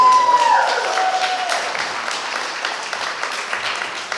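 Wedding guests give a round of applause during a reception speech, a dense and even wash of clapping from a crowd that carries on steadily throughout.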